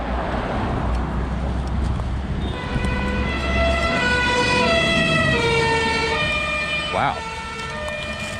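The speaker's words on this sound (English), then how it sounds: "It's the fire brigade." A fire brigade engine's siren wails loudly and close by on a roundabout off the A14 in Bury, a rising and falling tone over rumbling road traffic, with a brief voice reacting partway through.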